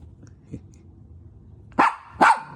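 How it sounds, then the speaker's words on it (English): Dog barking during a playtime training session: two sharp, loud barks close together near the end, after a faint whimper and quiet shuffling. "So that's why we'll get a bark, as to try to figure out what to do."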